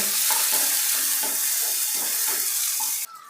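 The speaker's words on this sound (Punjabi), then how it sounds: "ਦੋ ਮੀਡੀਅਮ ਸਾਈਜ਼ ਦੇ ਪਿਆਜ਼ ਚੌਪ ਕੀਤੇ ਹੋਏ ਯਾਨੀ ਬਰੀਕ ਕੱਟੇ ਹੋਏ ਤੇ ਹੁਣ ਆਪਾਂ ਇਹਨਾਂ ਨੂੰ ਭੁੰਨਾਂਗੇ" Two medium onions, finely chopped, fry in a kadahi with a steady loud sizzle, broken by a rhythm of stirring scrapes and knocks that ends abruptly.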